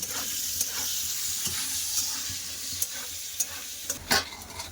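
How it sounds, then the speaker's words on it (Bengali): Potato pieces frying in oil with turmeric and salt give a steady, close sizzle, broken by sharp scraping clicks as a utensil stirs the pan. "এবার আলুগুলো একটু লাল করে ভেজে নেব"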